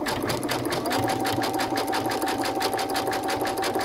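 A Brother sewing machine runs a satin stitch for applique, needle hammering in a fast, even rhythm with a steady motor whine, close and alone.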